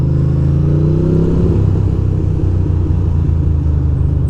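A motorcycle engine runs in cold weather, idling low with a steady, loud rumble and faint throttle swells, with no talk over it.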